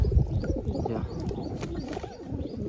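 Pigeons coo in low, throaty rolling calls, several birds overlapping close by with soft fluttering.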